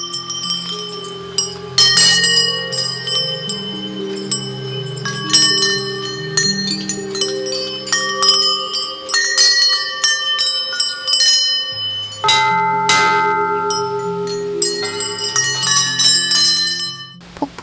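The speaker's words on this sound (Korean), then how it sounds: "맑은 종소리가 산과 하늘에 울려 퍼지며 신에게 저 왔어요 하고 인사를 전했어요." Metal temple bells on the Annapurna Base Camp trail in the Himalayas, struck repeatedly in an uneven series of bright clangs with long ringing decay, overlapping tones, close and clear, with a brief pause near the middle.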